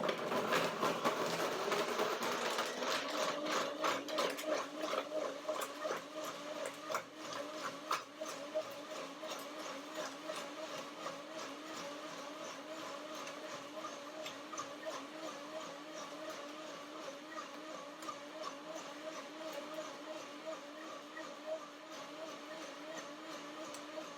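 High-speed blender whirring through walnut banana milk, a steady motor drone with a rattling, pulsing texture that starts loudest and settles into an even, sustained whine for over twenty seconds, with no talking.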